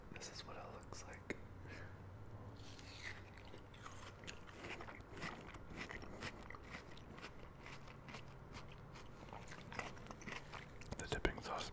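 Someone eats cantaloupe dipped in cream, with close, wet biting and chewing sounds that come in irregular bursts beneath soft whispered talk.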